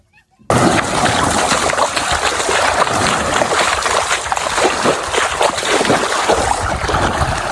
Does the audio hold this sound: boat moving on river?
yes